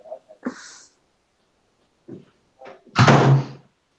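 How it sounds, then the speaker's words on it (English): A door is shut firmly indoors, a solid thunk and slam near the end after a few quieter bumps and brief noises, close and loud. "Why did you shut the door?"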